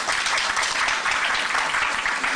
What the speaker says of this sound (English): Can you give yourselves a big round of applause?